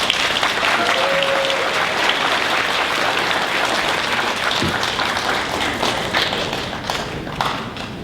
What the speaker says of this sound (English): let's give another big round of applause for a beautiful, beautiful speech